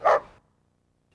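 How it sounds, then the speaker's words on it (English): An angry dog gives a single sharp, loud bark close by, followed by near silence. "an angry dog. Tail sticking up, barking and showing his teeth"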